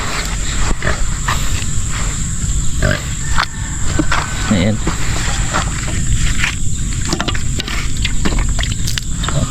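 Pigs, including a sow with piglets, grunt and snort up close amid constant rustling and shuffling, with a steady noisy background throughout.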